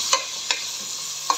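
Tomato being mixed in a frying pan gives a soft continuous sizzle, with three quick spoon taps against the pan spaced irregularly.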